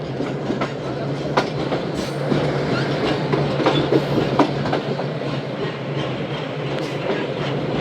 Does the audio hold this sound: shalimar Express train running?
yes